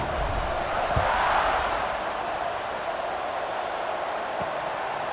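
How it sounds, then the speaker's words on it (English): Stadium crowd noise in EA Sports College Football 26, a steady loud roar filling the background after a touchdown, with no clear voices on top. "this crowd is buzzing after that last score"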